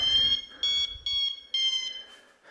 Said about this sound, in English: show you how the buzzer works